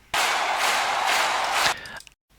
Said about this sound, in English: what I did there is that I've added those crowd effects from Vengeance packs